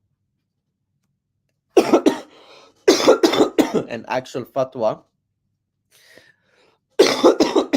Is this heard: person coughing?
yes